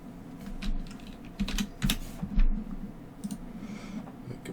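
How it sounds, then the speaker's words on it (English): Fingers typing on a computer keyboard, a quick irregular run of close clicky keystrokes with short pauses between bursts, no talk. "you just open up your blueprint for the armor piece and then type in what you just made"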